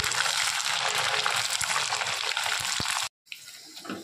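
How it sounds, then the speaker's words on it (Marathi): Kurdya, crisp wheat fritters, deep-frying in hot oil with a loud, steady bubbling sizzle that cuts off abruptly near the end, followed by faint kitchen clatter. "आता कुरड्या तळून घेणार आहे"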